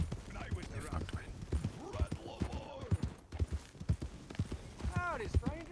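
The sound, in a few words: horse hooves clip-clop while riding, from a video game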